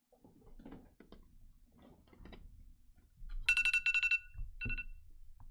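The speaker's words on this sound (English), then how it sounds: "What was that for, that alarm?" A ringing alarm during a vintage Pokémon card sorting session, heard as a loud burst of rapid repeated electronic tones lasting about a second, then a shorter second burst; quiet room sounds and faint talk come before it.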